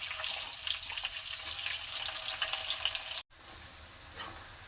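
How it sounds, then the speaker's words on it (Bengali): Onions fry in hot oil with whole spices and bay leaves, a steady loud sizzle that cuts out for a moment and resumes slightly quieter. "পেঁয়াজটা ভাজা ভাজা হয়ে গেল"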